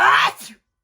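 A single person's sneeze bursts out loud and close, then trails off into a short breathy tail and silence.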